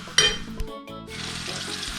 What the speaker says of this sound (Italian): Dopo che abbiamo finito di friggere le nostre zucchine